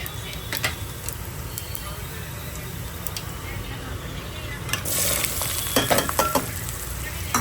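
Hot oil sizzles steadily in a pan as kantola curry is started, a loud, continuous frying hiss that swells and crackles more sharply toward the end. Voices talk over it.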